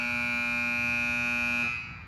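Master alarm horns blare steadily during a light and horn test on a training unit panel, a loud sustained buzzing tone held for about two seconds before cutting off and fading.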